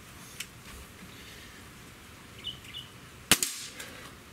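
A single sharp crack of a Diana AM03 Stealth N-TEC .22 caliber breakbarrel air rifle firing, fairly faint and close, preceded by a few soft clicks and small handling noises.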